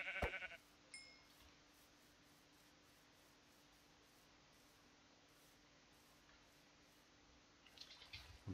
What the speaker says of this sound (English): Where are all the sheeps? Where are my sheeps at? There's one.